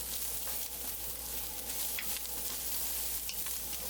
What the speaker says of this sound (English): I'll just stir this around maybe 30 seconds or so.